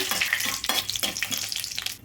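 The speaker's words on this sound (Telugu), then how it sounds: "తాలింపు బాగా వేగాలండి" Tempering of mustard seeds, urad and chana dal, cumin and a dried red chilli frying in hot oil, a crisp sizzling crackle with bursts of stirring, moderately loud and close, no speech.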